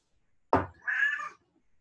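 Cat meowing once up close, a short clear two-part meow in an otherwise quiet room.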